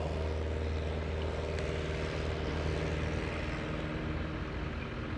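A propeller airplane performing a touch and go at an airshow drones loudly and steadily, a continuous close engine roar with a buzzing tonal hum and no talking.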